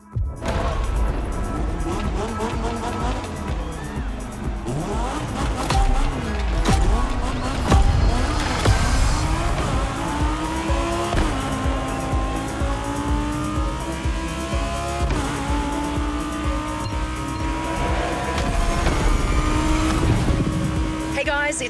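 Lamborghini Egoista in the racing game The Crew Motorfest, its engine droning and shifting pitch while tires squeal through corners, loud and continuous, with voices talking over it at times.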